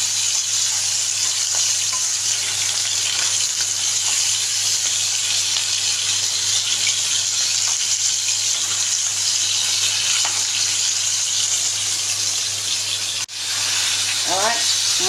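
Hilsa fish tail pieces fry in a pan with a steady, dense sizzle that holds evenly throughout, loud and close, with a brief clatter near the end.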